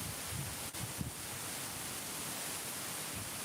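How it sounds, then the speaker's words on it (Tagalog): Strong wind blasts steadily into an outdoor microphone during a live stream, a constant broadband roar with a couple of brief gust knocks, no talking. "Grabe ang hangin."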